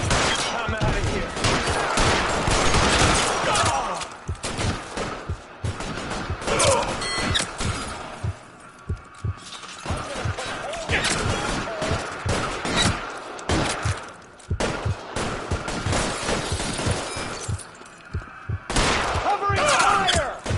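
Sustained gunfire from a 1940s detective shootout in L.A. Noire, with dense volleys of shots and crashes running throughout, loud and close, mixed with voices speaking over the fight.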